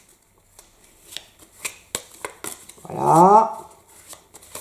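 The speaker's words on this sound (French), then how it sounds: "vous demandez à un adulte de vous aider à mélanger les cartes" Playing cards being shuffled by hand, a short riffling burst of papery flutter standing out among soft handling clicks, close and moderately loud, with a brief spoken word nearby.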